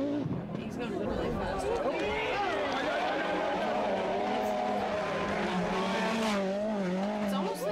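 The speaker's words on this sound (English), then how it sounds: "you know this car's gonna come cruising around there anytime" A Group B rally car at Rally Portugal, its engine revving and rising in pitch as it approaches and passes close by, loud and sustained over the full stretch, with people talking throughout.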